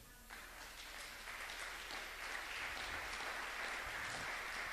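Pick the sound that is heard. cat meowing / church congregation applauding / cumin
church congregation applauding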